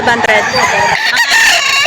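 A rooster crows loudly and close at a poultry market in Lipa, Batangas, its harsh, drawn-out call filling the moment with a brief break in the middle.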